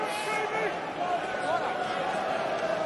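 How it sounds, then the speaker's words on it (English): Rugby crowd at a Northampton Saints versus Leinster European Champions Cup match, a sustained broad roar of disapproval aimed at the referee, steady and loud throughout with no pause. "Crowd certainly let the referee know."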